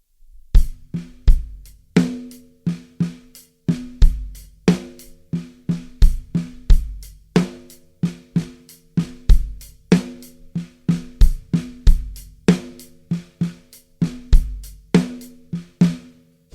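A drum kit plays a steady single paradiddle groove alone, snare and bass strokes interleaved with hi-hat in a repeating sticking pattern, crisp and close.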